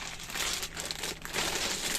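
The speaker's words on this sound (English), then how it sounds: "just the plastic bags" Plastic bags holding Rummikub game tiles crinkle and rustle continuously up close, loud and busy with no voices.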